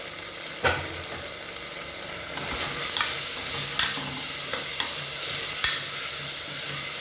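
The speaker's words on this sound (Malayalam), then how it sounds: "എന്നിട്ട് നമുക്ക് നല്ലതുപോലെ ഒന്ന് മിക്സാക്കാം" Dal khichdi being stirred in a hot pan after garam masala is added, a continuous sizzle with scraping spoon strokes and a few sharper knocks against the pan.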